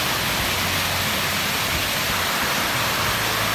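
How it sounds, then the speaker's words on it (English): Small upper waterfall on a Tasmanian hiking trail near a 30-metre drop, a steady broadband rush of flowing water filling the scene evenly and continuously, close and fairly loud, with no voices. "And we have a little upper waterfall."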